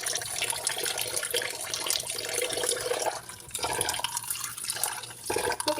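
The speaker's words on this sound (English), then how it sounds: "And then rinse it at least 2 times with the water." Tap water runs and splashes over rice being rinsed in a sink, a steady broadband rush with uneven surges and brief dips, fairly close and with no talking.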